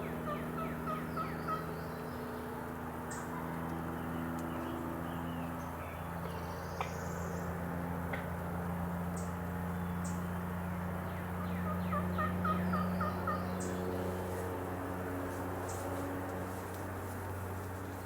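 A wild Missouri longbeard turkey gobbles repeatedly from a distance across a field, the calls ringing out in bursts over a steady chorus of insects and crickets, with no voices.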